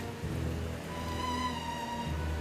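Steady rain pouring in a Star Wars fan-film scene, a dense continuous hiss that holds at an even level throughout.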